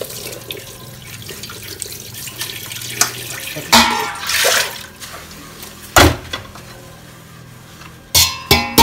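Running tap water pours into a Kangaroo cookware pot being washed, with a steady flow and several louder bursts of splashing and clanking.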